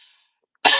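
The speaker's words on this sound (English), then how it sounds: "I just coughed up pepper." A single sudden cough bursts out loud and close after a spicy pepper bite during a workout, following a brief faint sound and near silence.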